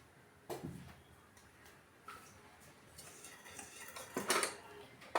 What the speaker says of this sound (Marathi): कढई गरम झालेली आहे, त्यामध्ये आपण 2 पळी तेल टाकून घेणार आहोत।